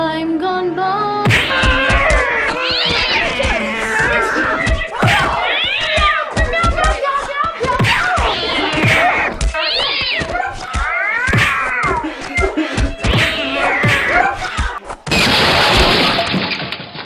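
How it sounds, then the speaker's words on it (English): Cats fight outside, trading drawn-out yowls, wails and rising caterwauls one after another, loud and close, with thumps and a crash-like burst near the end. "Well, that cat fight's going on outside."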